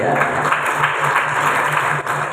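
Applause fills a Maulid Nabi commemoration gathering of school Islamic student groups in Semarang, Indonesia, a dense continuous clapping from a large audience with no talk.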